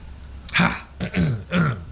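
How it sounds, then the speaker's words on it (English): A person clears their throat in three short, gravelly bursts, close to the microphone, with brief pauses between them. "clear your throat"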